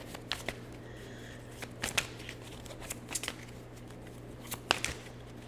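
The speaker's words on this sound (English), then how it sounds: "Give me a good shuffle." Tarot cards being shuffled up close, a steady riffling patter with a few sharper snaps, over a low background hum; no talking.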